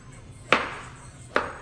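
A knife chops zucchini on the bias against a cutting board, two sharp, close knocks a little under a second apart, with a quiet room background between them.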